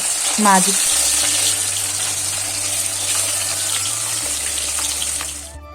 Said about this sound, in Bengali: কড়াইয়ের তেলটা যখন গরম হয়ে গেল, একটু নেড়ে চেড়ে ওর মধ্যে এক এক করে মাছগুলো সব দিয়ে দেব